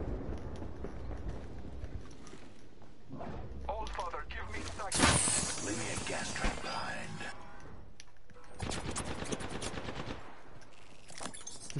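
Gunfire in Apex Legends, with bursts of rapid shots and a sharp loud crack midway, mixed with other game sounds while people talk over it.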